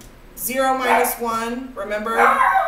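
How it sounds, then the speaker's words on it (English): Several dogs bark and yip close to the microphone in quick repeated bursts, loud and overlapping a person who keeps talking. "excuse my dogs,"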